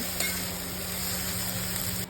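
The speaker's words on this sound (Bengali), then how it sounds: "ভালো করে নেড়ে নেবো।" Shrimp and chopped onion with salt and turmeric stirred and frying in a hot pan, a steady loud sizzle throughout with a brief scrape of stirring near the start.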